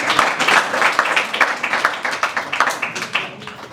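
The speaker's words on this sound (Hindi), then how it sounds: "एक बार जोरदार तालियां हो जाए KG राइट्स वालों के लिए" Audience applause at a gathering, a close mix of hand claps in quick, uneven bursts that continue without a break, with a few sharper individual claps standing out.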